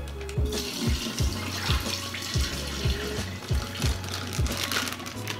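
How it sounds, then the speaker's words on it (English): Water poured from a ripped-open fish bag into an aquarium, splashing and gurgling steadily with repeated small bursts, close and moderately loud throughout. "I'm just gonna rip open the bag and dump some of the water out."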